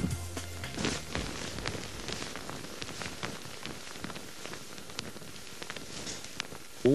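Crinkling a lightweight feather duvet close up, a soft continuous rustle with scattered crisp crackles, fairly quiet and steady throughout.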